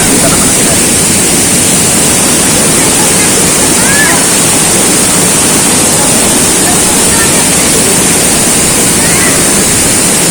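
Pedalyon Falls, a waterfall in General Nakar, Quezon, rushes in a loud, steady broadband roar that fills the whole span with no pause.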